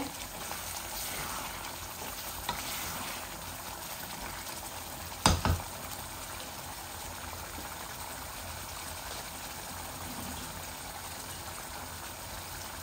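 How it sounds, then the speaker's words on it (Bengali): Meat browning in a pan for a bhuna with potatoes, a steady soft sizzle and bubbling close by, with one brief clatter of a utensil partway through and no talking. "এই যে আমার মিটগুলা ভুনা ভুনা হচ্ছে।"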